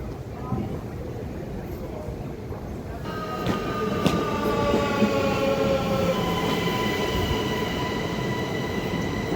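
A train travelling from Austria to Switzerland rumbles steadily with metallic wheel squeal and rising tonal whine, people talking over it.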